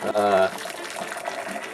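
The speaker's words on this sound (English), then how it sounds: "we're gonna use some hot water here" Hot water pouring into a container, a brief gushing fill followed by a softer trickle, with a voice speaking.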